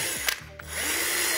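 A drill bores small holes into a plastic water jug, giving a brief whining burst that drops away, then spins back up into a steady, close buzz.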